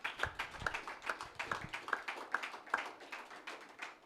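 Church congregation clapping in acclamation during a worship service, a steady rhythmic beat of hand claps about two per second, moderately close, with a few taps between.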